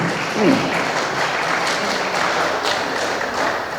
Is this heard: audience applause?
yes